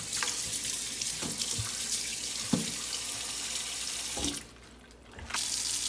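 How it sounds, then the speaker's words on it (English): Pig tails get washed under a running kitchen tap, which hisses steadily with soft knocks and splashes as they are handled. The flow briefly drops away and then resumes. "I'm just going to get them washed up."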